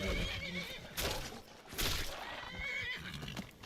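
A horse in the video game Skyrim neighs loudly in a shrill whinny, followed by more snorting and whinnying sounds with faint hoof clopping, close and prominent.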